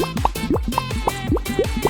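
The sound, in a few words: bubbles popping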